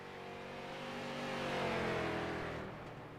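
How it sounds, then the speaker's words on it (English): A pro street stock race car, the number 7 machine, roars past on the North Wilkesboro track, its engine note swelling as it approaches and fading away in a single pass. "We've got Jeff Edgar, the number 7 machine, making his way out on track for the very first time this season."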